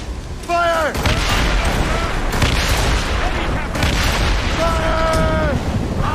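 Cannon broadsides from a sailing warship in Assassin's Creed Rogue boom out in loud bursts, layered under shouted crew voices and orders in a busy naval battle.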